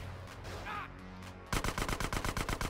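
Rapid bursts of automatic gunfire in GTA San Andreas, loud and close, rattling in a steady rhythm through the second half after a stretch of quieter game noise.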